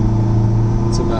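A 1970 Lancia Fulvia Berlina's engine at very light throttle while driving, a loud, steady low drone heard from inside the car.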